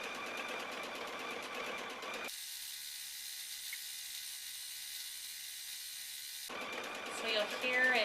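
A Baby Lock TruStitch 18 sewing machine motor hums steadily at an even pitch for several seconds, with quieter mechanical stitching clatter before and after, all close and fairly soft.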